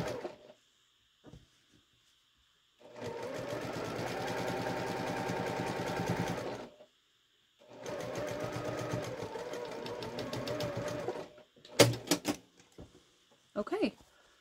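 A home sewing machine back stitches fabric for a quilted pouch in two long, steady bursts of rapid mechanical stitching, close up, with short pauses and a few sharp clicks and clunks near the end.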